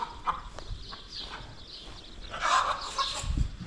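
A few soft, scattered clucks from a chicken against an outdoor background, with a louder rustle or knock near the end.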